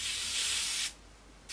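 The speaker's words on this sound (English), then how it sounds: "Again, spraying them up. We will come over these with mil-spec white shortly" Aerosol spray hissing onto the rear undercarriage parts of an Airfix 1/72 McDonnell Douglas Phantom FG1 model kit, one steady close burst that cuts off, then a short second burst begins.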